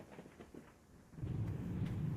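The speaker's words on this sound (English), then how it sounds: "There's a storm coming in." A thunderstorm in the survival video game Escape The Pacific: soft rain hiss at first, then a deep rolling rumble of thunder swells and holds, fairly quiet and with no talking.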